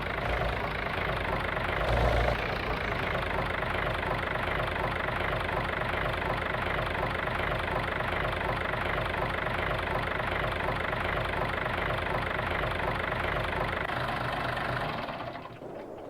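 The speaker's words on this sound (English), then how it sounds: "that engine knocks kind of normal for these old things" An old tractor engine idles with a steady, rapid knock in Farming Simulator 22, a continuous loud mechanical chugging close up that fades slightly at the very end, with no voices.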